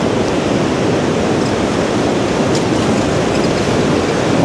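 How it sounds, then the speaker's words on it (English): Rushing water from waterfalls along a usually dry riverside spot in Germany, a loud, constant broadband roar close by with no breaks. "What a sound. This is not here, usually. These are waterfalls."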